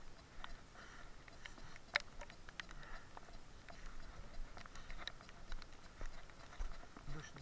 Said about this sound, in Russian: Дождь начинается.